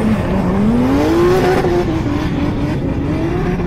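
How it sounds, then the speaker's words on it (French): A 2JZ-engined drift car revs hard and accelerates on a race track, its engine note climbing steadily and then holding at a loud, sustained high pitch, close by, with no talk over it. "La grosse relance du 2JZ."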